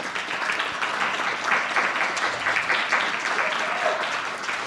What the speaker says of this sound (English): A big round of applause to and heartfelt thanks to Teriko